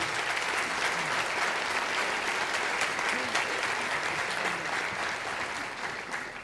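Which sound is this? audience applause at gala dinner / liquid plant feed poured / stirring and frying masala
audience applause at gala dinner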